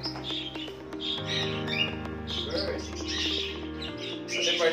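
A pet bird in an aviary gives repeated harsh squawks and chirps close by, over a steady background hum, while a person talks softly in between.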